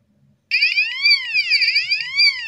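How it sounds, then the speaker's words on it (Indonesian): An electronic buzzer siren driven by an ATmega328 circuit starts abruptly and wails in rising and falling sweeps, loud and close, repeating without pause. "Oke, ini untuk sirine ya."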